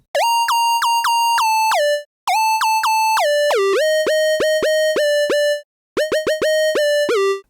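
Serum lead synth preset built for a lead in the style of a particular song, played as bright, loud staccato phrases of repeated short notes with pitch dips and slides as a macro knob sweeps from 0 to 100%, alone without talk.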